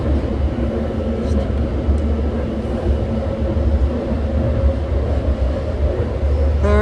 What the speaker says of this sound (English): There's an 8-car red line San Francisco Richmond bound BART train passing us.